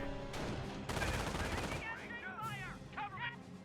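Gunfire in a Company of Heroes 1 real-time strategy battle: rapid rattling bursts of rifle and machine-gun fire, loud and close, with unit voices talking over the fighting.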